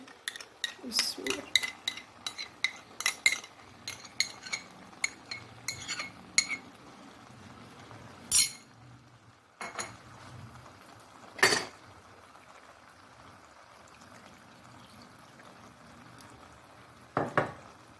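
Curd being stirred into chicken gravy in a pot with a spoon, giving a series of light clinks and scrapes in the first several seconds, then a few isolated louder knocks separated by quiet pauses.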